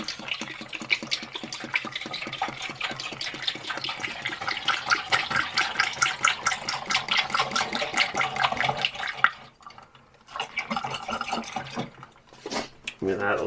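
Antifreeze and distilled water coolant glugs steadily into a Rover V8's cooling system, a close, continuous gurgling pour that breaks off, then resumes in short splashy bursts.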